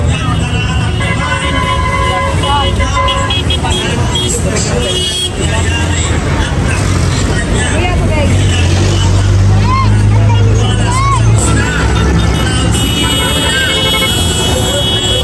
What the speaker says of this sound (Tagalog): Isang busina para pagsuporta po.